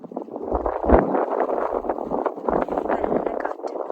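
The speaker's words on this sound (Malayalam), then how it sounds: "നല്ല കാറ്റ്." Strong wind on the summit of Farfar Mountain in the UAE buffets the microphone in loud, low gusts that rise and fall without pause for several seconds.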